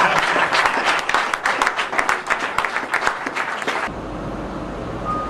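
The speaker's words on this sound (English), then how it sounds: "And I want you to be very sincere in your clapping." Audience at a church talk gives a burst of sincere applause, dense steady clapping that fades slightly before cutting off abruptly into room quiet.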